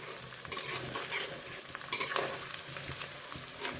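Garlic and onion frying in a mix of oil and butter for pav bhaji, a busy close sizzle with scraping stirs of a spoon against the pan, no voices.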